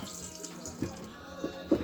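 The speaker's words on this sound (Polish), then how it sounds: "mamy toaletę, w której również woda działa." Tap water runs steadily in the small toilet of a 2005 Lunar Quasar 462 motorhome, a soft continuous flow with a few brief knocks and splashes, no talk.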